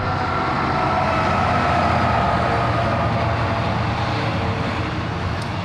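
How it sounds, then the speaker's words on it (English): A train passes through a small country town, a steady, broad rumble and rolling clatter that holds at an even level from start to finish. "There's a train getting in on the action."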